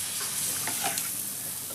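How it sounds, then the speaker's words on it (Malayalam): Dates fry in hot oil with a steady, close sizzle and no voices. "നമ്മൾ ഈത്തപ്പഴം പൊരിച്ചെടുക്കട്ടാ."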